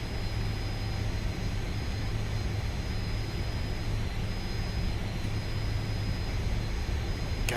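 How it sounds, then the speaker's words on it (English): Steady cockpit ambience inside a Fokker F28 airliner in a flight simulator, a continuous loud low engine drone and airflow hum with a faint high whine, unbroken and constant with no talk. "just the ambient sounds in this airplane are so good"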